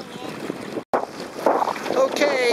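Sailboat moving across Barnegat Bay in light gusts, steady wind rush and hull-on-water hiss close to the microphone, with a brief dropout near one second and rising gust noise afterward.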